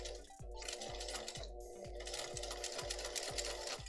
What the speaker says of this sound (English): I put it in so that I'm sewing from the inside